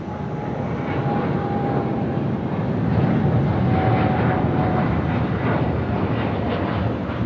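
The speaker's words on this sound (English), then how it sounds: "34 left, Qantas Departure." A Qantas Boeing 787 departs Sydney Airport at night from runway 34 left, its engines a loud, steady jet roar swelling slightly as it passes, heard alone without talk.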